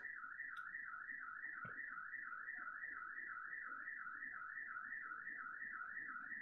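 A neighbour's alarm wails continuously with a fast, steady warbling tone, sounding some distance away and fairly faint over quiet background noise, with a brief knock partway through.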